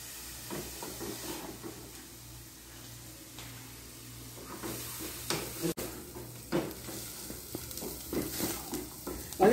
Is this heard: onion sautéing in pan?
yes